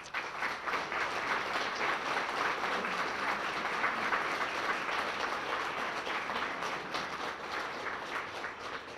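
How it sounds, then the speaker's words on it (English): Diners at a chamber of commerce dinner applaud Rotary Club members in a long, even round of clapping that holds steady for the whole stretch, with no voices on top. "a congratulatory round of applause"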